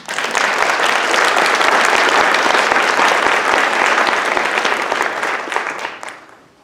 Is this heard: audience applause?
yes